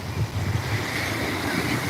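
Steady ocean surf rolls and washes against a clean shoreline, mixed with gusting wind buffeting the microphone, a continuous broad roar without distinct breaks.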